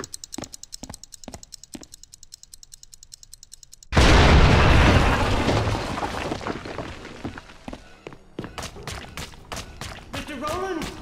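In XIII Remake, a bomb goes off with a sudden loud blast after a stretch of sharp rhythmic clicking, then the roar decays into scattered debris clatter and crackling bursts.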